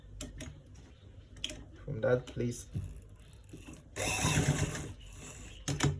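A sewing machine stitches around a V-neckline in one short, buzzing run midway, surrounded by scattered handling clicks and a person talking.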